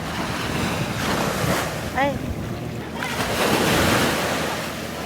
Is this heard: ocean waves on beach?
yes